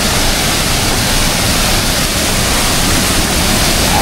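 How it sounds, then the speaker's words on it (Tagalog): Loud, steady roar of a river waterfall swollen by floodwater, a constant broadband rush of crashing water filling the whole clip with no pauses. "Grabe na talon."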